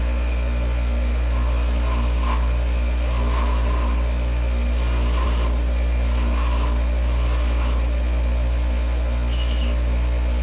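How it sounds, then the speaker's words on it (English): Hand-grinding an edge back to even, in a workshop: several short bursts of rasping strokes repeat at intervals over a steady low hum, with no talk. "I'll just concentrate on grinding it back even."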